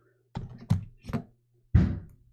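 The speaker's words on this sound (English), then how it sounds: "Someone just banged on my door." A door at home is banged with a quick cluster of three hard knocks, then a single heavier thud after a short pause; the blows are close and loud in an otherwise quiet room.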